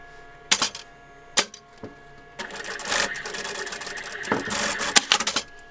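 A couple of sharp clicks, then a sewing machine runs in a fast, rattling burst for a few seconds, stitching doll clothes, before stopping, close up.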